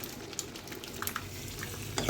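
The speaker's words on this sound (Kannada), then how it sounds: "ಈಗ ಮಿಕ್ಸ್ ಮಾಡಬೇಕು." Cooked dal being stirred and mixed in a sizzling pan for hotel-style dal Kolhapuri, a soft steady frying hiss with light scraping of the spoon, close and continuous.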